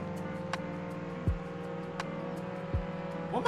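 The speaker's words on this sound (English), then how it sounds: "Why does this thing sound like it's faster than most cars?" A fire truck engine in the Roblox game Jailbreak gives a steady hum with a low droning tone throughout, with a couple of brief thumps and a faint rising rev near the end.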